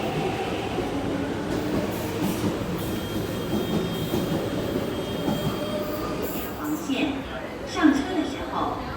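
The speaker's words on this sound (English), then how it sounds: "please stand behind the yellow line as the train is about to leave" An MTR train pulls out of Kowloon Tong Station, its wheels rumbling and squealing along the rails with steady underground clatter while voices carry over the platform.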